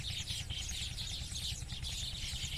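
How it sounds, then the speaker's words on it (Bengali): Birds around weaver bird nests in date palms beside a field give faint, continuous high chirps and twitters over a low background hum. "কিচিরমিচির কিচিরমিচির হচ্ছে কত।"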